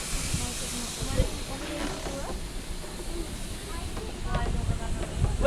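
Steam hisses from a steam train during a ride at Fort Steele, a steady broadband rush that runs through the whole stretch, with faint voices and scattered clanks underneath.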